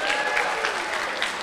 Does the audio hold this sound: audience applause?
yes